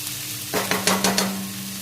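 A sudden burst of sizzling as chili hits hot oil with toasted cumin, followed by a few quick stirring scrapes, then a quieter hum.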